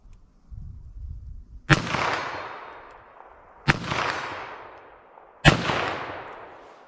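Three loud, sharp revolver shots, evenly spaced about two seconds apart, fired double action with Federal Punch .22 LR rimfire rounds. Each crack rings out briefly over a faint low rumble of background noise.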